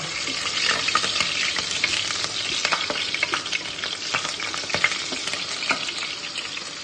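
Dried red chillies and green chillies sizzle and crackle in hot oil in a pan, a steady bright frying hiss with sharp pops and spatters throughout, close by and with no talking.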